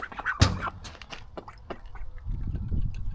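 A duck quacks a couple of times nearby on a farm, followed by rustling and a low rumble of background noise.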